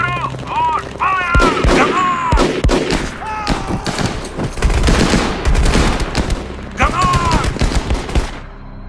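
Dense gunfire from soldiers in a World War II German battle video game: loud, rapid overlapping rifle and machine-gun bursts with heavy thumps, mixed with shouting voices throughout.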